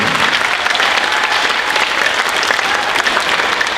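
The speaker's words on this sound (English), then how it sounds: "Round of applause for Michael Wright." Sustained audience applause at a middle school spring concert, a dense, steady clatter of many hands clapping in a hall, loud and continuous throughout.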